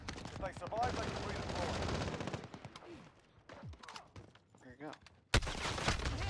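Gunfire in the video game Warzone, sharp bursts of automatic shots mixed with scattered cracks, moderately loud, while players talk over the action.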